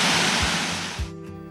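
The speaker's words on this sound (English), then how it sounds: "We're at a beautiful waterfall." A waterfall in the Arenal rainforest of Costa Rica, a loud dense rushing roar that fades off after about a second.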